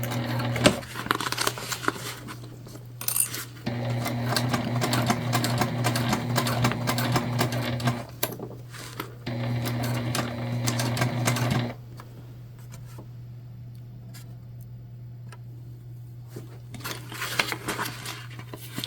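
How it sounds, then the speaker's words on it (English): Sewing machine stitching the top seam of a book bag tote in two long, steady runs of rapid needle clatter with a humming motor, separated by a short pause, followed by quieter handling and shuffling, with no talking. "I am gonna sew this top together at a 3/8, not a quarter."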